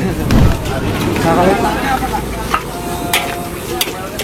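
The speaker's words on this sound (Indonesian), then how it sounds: "Jadi diaduk-aduk dulu biar merata semua ya." Spicy instant noodles stir-fried in a pan at a busy food stall: loud sizzling with spatula scrapes and clanks, under people talking and background crowd noise.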